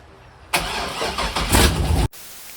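A Mazda RX-8 engine with a custom stainless exhaust cranks and fires up loudly, rumbling and revving through the throaty exhaust for about a second and a half before cutting off abruptly.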